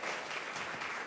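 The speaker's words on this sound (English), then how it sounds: "please, everyone, provide a round of applause" A brief burst of audience clapping at a forum on a court funding crisis, faint and distant, an even patter of many hands lasting only a moment.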